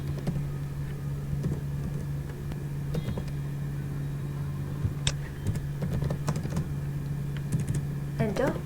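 Someone types Python code on a computer keyboard, with quick, irregular key clicks over a steady electrical hum.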